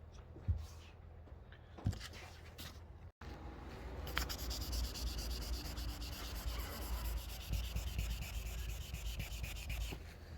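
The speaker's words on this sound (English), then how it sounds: "So you've got to be careful when you're sanding" 1500 grit sandpaper worked by hand over car paintwork where bird droppings have etched fairly deep, giving a soft continuous rubbing hiss with a couple of sharp taps early and a brief break before steady strokes resume.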